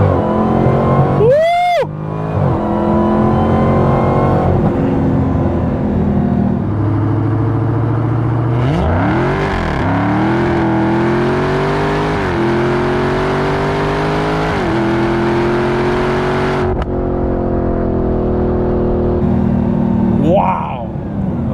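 A Dodge Demon's engine roars close and loud as the car accelerates hard, the pitch climbing and dropping through gear changes over a sustained drone, with occasional excited talk from inside the car.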